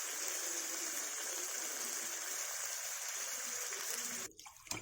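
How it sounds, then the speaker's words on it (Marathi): Water poured steadily into a pan of fried brinjal for masala curry, a continuous loud gushing stream that stops abruptly near the end, followed by faint clatter. "वांगी बुडतील एवढेच थोडं पाणी टाकायचं आहे"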